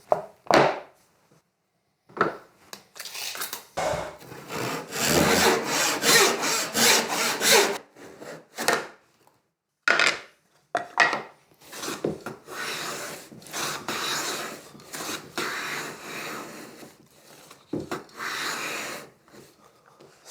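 Wooden box pieces are hand planed, with repeated rasping strokes of a plane shaving wood, irregular bursts separated by short pauses, close and fairly loud.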